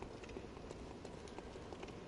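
An enemy's running footsteps in Bloodborne, soft rhythmic thuds repeating at a brisk pace, quiet and somewhat far off, with no voices over them.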